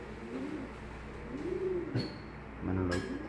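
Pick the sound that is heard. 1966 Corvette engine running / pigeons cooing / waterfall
pigeons cooing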